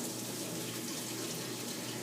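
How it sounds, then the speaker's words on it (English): Warm water runs steadily from a kitchen tap over frozen chicken, a continuous close splashing hiss with no talk. "you actually run the frozen chicken under some warm water"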